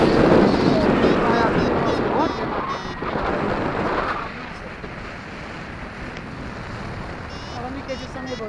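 Cold mountain wind blows hard against the microphone while paragliding near Ďumbier, strong gusty buffeting at first that settles into a steadier, softer rush, with voices faintly mixed in.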